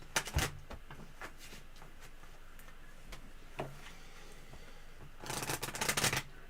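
A deck of Lenormand cards being shuffled during a live tarot session, soft scattered card taps followed by a brisker shuffling burst near the end, fairly quiet with no voices.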